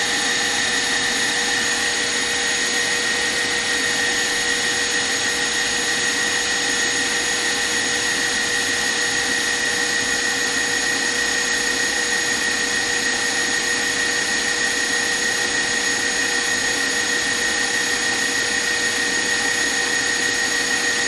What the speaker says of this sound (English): So I'm just whisking this until my syrup hits 235.